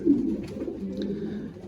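Racing pigeons coo in a loft, a low soft burbling coo near and moderately loud, over quiet background murmur with no talk.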